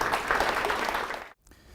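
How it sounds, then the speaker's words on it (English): An audience at an evening ISACA London Chapter talk applauds the speakers with a dense burst of clapping that fills the room, then cuts off abruptly. "please just give one little round of applause again to our speakers"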